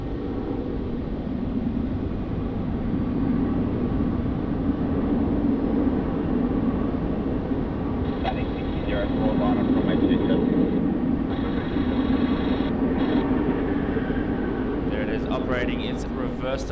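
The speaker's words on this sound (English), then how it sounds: "Its reverse thrusters there, slowing down and exiting runway 16." An airliner at Melbourne Airport roars steadily on the runway under reverse thrust while slowing, a broad continuous rumble with faint radio chatter and voices mixed in.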